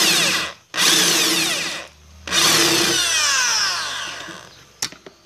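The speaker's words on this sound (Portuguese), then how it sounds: "Essa aqui é furadeira e parafusadeira, para os dois lados trabalha" A power drill-driver whines in loud, sustained bursts while working on a centrifuge motor, revving up and winding down three times with short pauses, ending with a couple of sharp clicks.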